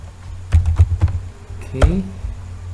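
A web address is typed on a computer keyboard in a brief run of close, crisp key taps, followed by a single louder click, with faint room hum beneath and no talk.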